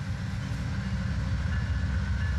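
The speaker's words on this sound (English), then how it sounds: "PO-92 glides out of Hamlet as their cars pound the diamond on their way out of town." Amtrak long-distance train PO-92's cars roll over a railroad diamond crossing on the way out of Hamlet, a steady, fairly close rumble of wheels on rail with no voices.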